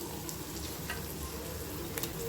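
Prawns sizzle steadily in hot oil in a pan while being cooked for a prawn gravy, a soft continuous crackle with a few brief sharper pops, fairly quiet and with no talking.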